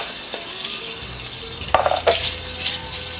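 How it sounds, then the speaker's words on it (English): Lard sizzling and spitting in a hot wok, a steady close frying hiss with a couple of sharper pops partway through. "once the wok is hot, you put in the lard."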